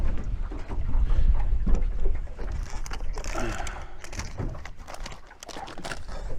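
Wind gusts across a small fishing boat on open water, a steady loud rush buffeting the microphone throughout, with faint boat and water sounds underneath.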